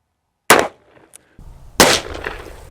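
Dan Wesson 744-V .44 Magnum revolver fired single action at an outdoor range, two loud, sharp booming shots about a second apart, each trailing off in a brief echo.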